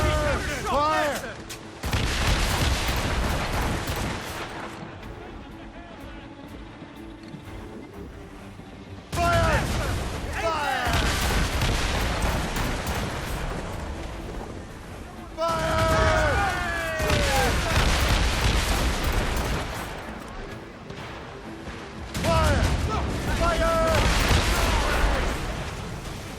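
Naval cannons from an eighteenth-century warship in Assassin's Creed Rogue boom in three or four heavy rolling broadsides, each a dense cluster of blasts separated by short quieter gaps, with shouted voices and creaking during the pauses.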